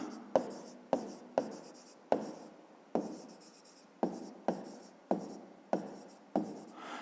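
Hand writing on paper during a fifth-grade maths exercise: a series of about a dozen sharp pen taps and short scratchy strokes, spaced unevenly, close and quiet with no talk.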